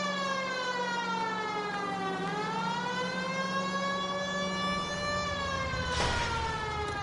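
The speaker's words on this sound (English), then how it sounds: "If you hear sirens, you're supposed to pull over." A police siren from the video game L.A. Noire wails in a continuous rising-and-falling sweep, steady and prominent throughout, with a brief noisy burst near the end.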